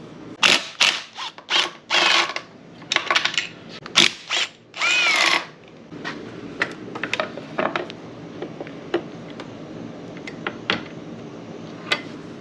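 Carburetor being removed from a Mercury 15 hp outboard motor, with close ratcheting tool bursts and clanks early on, then quieter scattered metallic taps and handling noises.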